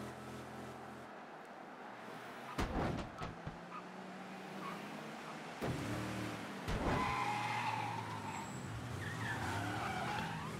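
Car tyres squeal and skid under hard braking in the video game Mafia III, several screeching bursts over a running engine, with no talking.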